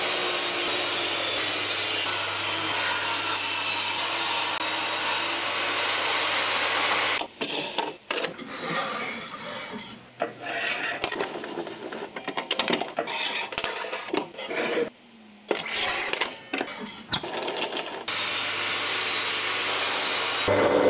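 Sawing wooden pantograph pieces for a Pantorouter XL build: a steady, loud, continuous rasp of a saw through wood for several seconds, then broken, intermittent cutting and rubbing with short pauses.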